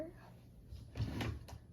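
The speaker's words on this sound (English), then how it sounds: "Open this drawer." A makeup storage drawer is pulled open with a short sliding rumble and a couple of soft knocks, close by and fairly quiet.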